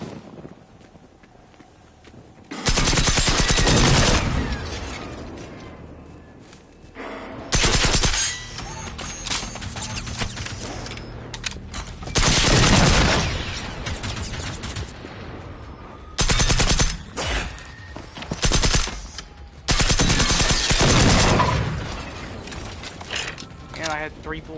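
Gunfire in Generation Zero, several loud bursts of automatic shots in separate clusters with mechanical clatter between them, alternating with quieter stretches of game ambience.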